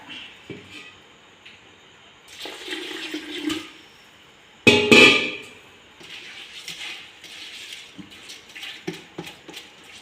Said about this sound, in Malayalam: കുറച്ച് വെള്ളം കൂടെ ചേർക്കാം